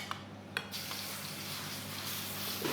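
Beef dropped into a smoking-hot oiled wok for Mongolian beef, giving a steady close sizzle and fry with a few sharp clinks of utensils against the pan near the start.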